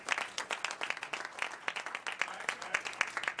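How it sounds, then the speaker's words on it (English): Audience applause for a DJ at a talk, heard as sparse, scattered hand claps from a modest crowd, fairly faint and uneven, with a few louder individual claps over about three seconds. "Let's get a DJ a round of applause."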